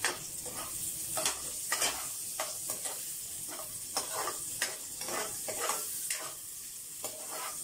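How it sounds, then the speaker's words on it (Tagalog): Onion, garlic and ginger sautéing in a pan, hissing and sizzling steadily while a utensil stirs and scrapes in repeated strokes, close and moderately loud. "Pagkatapos ng sibuyas, bawang, nagisa na natin kasama yung luya."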